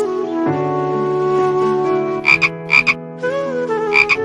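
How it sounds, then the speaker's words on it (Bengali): Loud frog croaks come in a playful series, with sustained tonal croaking tones and then several short, sharp bursts in a quick rhythm, close and alone with no speech. "আরে এই ব্যাঙের আওয়াজ কোথা থেকে আসতেছে?"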